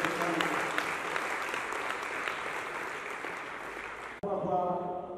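A crowd at a film launch event applauds the organiser, a dense, sustained clapping that runs for about four seconds before cutting off abruptly into a voice over a public address system.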